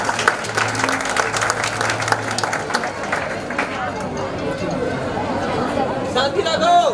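An audience claps steadily ahead of a song at a Chaturmas entry gathering in Surat, with crowd chatter mixed through the dense, continuous applause.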